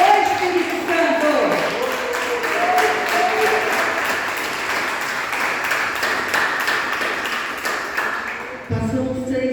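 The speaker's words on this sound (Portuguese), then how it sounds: "Você pode aplaudir o Senhor?" Congregation at a church service applauding the Lord, a full, sustained burst of clapping with shouts and voices mixed in, then a speaker's voice returning near the end.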